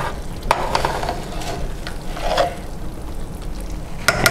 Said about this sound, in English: give it a stir and let it finish cooking